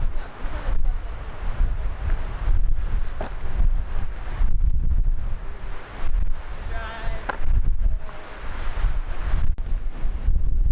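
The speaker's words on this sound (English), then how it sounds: "It's very windy through here, windier than the other trail." Strong wind on a trail in western Nebraska buffets the microphone in loud, gusty rumbles, rising and falling throughout, with faint ambient sounds underneath.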